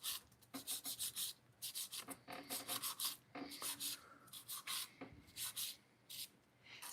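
A 100 grit nail file rasps along the sides of an acrylic nail in quick, steady strokes, each rub short and bright with brief gaps between, close and fairly quiet with no voices.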